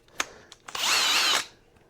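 A power drill fitted with a sanding bit enlarges a bolt hole during a CFMoto snorkel and cold air intake install, giving one short loud whirring burst after a few light clicks and taps.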